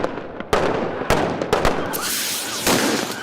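Sharp gunshot cracks ring out at a police dog training session. There are several irregular reports, loud and close, some coming in quick pairs with short echoing tails.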